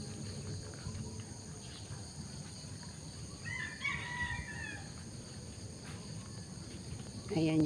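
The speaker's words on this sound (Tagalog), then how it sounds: "yung maririnig mo yung mga kakak ng mga manok, saka yung pabo" Chickens cluck and a rooster crows faintly at a rural army campsite, one brief crow rising midway, over a steady bed of insect chirping and low rumble, with a louder cry at the very end.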